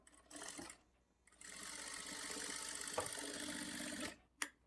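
Sewing machine stitching the shoulder seam of a lined blouse, a quiet close rattle in two runs, a short burst and then a longer steady stretch, ending with a faint click.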